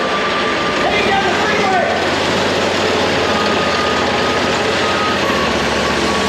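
A Harbor Freight Predator V-twin engine swapped into an old riding mower runs steadily throughout, a loud, continuous broadband drone with a faint high beep tone mixed in and some voices over it.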